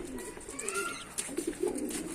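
Soft pigeon coos and faint chirps come through a muffled background, with light rustling and scattered bird noises nearby.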